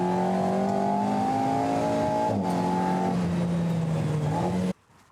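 An Alpine A110 road car on a timed track lap roars at high revs in a loud, sustained engine drone, with a quick gear-change dip partway before the sound cuts off abruptly near the end.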